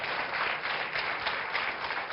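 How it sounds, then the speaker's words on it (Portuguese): An audience at a Portuguese talk gives a burst of steady, dense applause, many hands clapping together throughout. "Pode dar um aplauso ao Zé"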